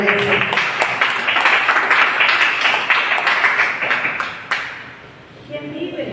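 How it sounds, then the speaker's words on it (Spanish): Congregation clapping loudly in a church, a dense, sustained wash of applause mixed with voices for most of the stretch, then thinning out near the end. "Damos fuerte palmas al Señor en la iglesia."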